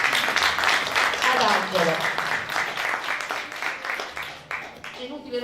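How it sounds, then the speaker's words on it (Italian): Audience applause at a Sicilian choir performance, a dense wash of clapping filling the room while a voice speaks over it, the clapping thinning out toward the end. "Quindi un applauso"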